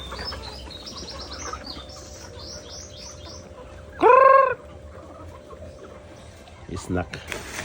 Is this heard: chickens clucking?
yes